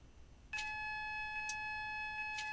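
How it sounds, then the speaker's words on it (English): The AWS alarm in the cab of a Class 450 train sounds as a steady, piercing electronic tone that starts abruptly and holds, with a few faint clicks on top. "cancel the AWS alarm."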